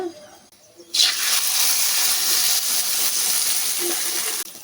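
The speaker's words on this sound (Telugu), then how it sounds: "మజ్జిగ మనం అంతా సిలికి పెట్టుకున్నాం కదా, ఇది దాంట్లో పోసుకోవాలి." Buttermilk poured into a hot tempering for majjiga pulusu sets off a sudden loud, steady sizzle and hiss that holds for several seconds after a quieter start, then cuts off abruptly.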